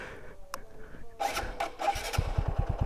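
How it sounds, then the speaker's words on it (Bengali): A motorcycle that has stalled on a ride is started again: a faint thin rattle gives way to a sputtering catch and then a rapid, loud, close engine putter, with no talk. "বাইকে দেখি স্টার্ট হয় কি না"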